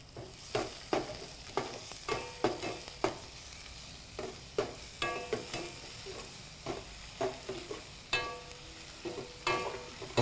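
Chopped onion sautés in a pan for an Andhra-style sesame mushroom fry, with a soft constant sizzle broken by regular spatula scrapes and taps roughly every half second, fairly quiet and close, no speech.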